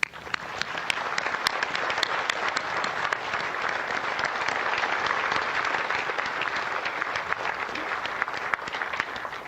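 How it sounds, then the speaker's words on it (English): Audience at a Pearl Harbor Remembrance Day ceremony gives a sustained round of applause, dense and even clapping that holds steady for about ten seconds without speech. "Please join me in offering a heartfelt round of applause."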